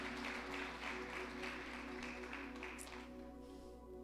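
A church congregation applauds during a sermon, steady clapping at moderate distance over a constant low hum that fades slightly toward the end.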